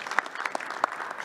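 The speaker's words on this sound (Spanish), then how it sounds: "Otro aplauso." Brief scattered clapping from a small audience at a technical talk, a handful of separate hand claps in a short burst before lunch.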